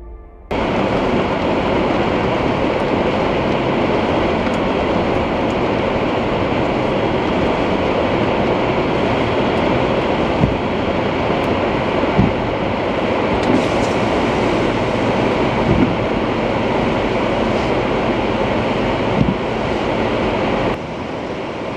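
Heavy storm rain while descending from 13,000 feet in a Jeep Gladiator 4x4 on a mountain, a dense, loud, unbroken roar of downpour with scattered sharper hits throughout, no voices.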